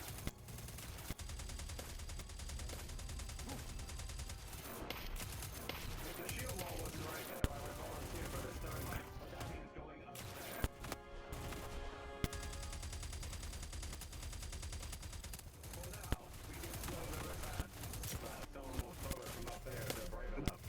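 Sustained video-game gunfire exchange with rapid automatic bursts and scattered single shots running throughout, dense and continuous, with voices talking over the battle.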